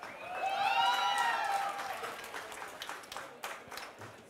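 An audience at a cooking competition heat bursts into applause and whooping cheers for contestant Martin, loud at first and then thinning into scattered claps.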